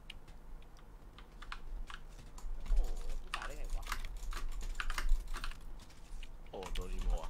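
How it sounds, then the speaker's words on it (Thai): Rapid computer keyboard typing clatters continuously during a GTA V roleplay gaming session, with people talking over it in the background. "เสียงคีย์บอร์ดดัง"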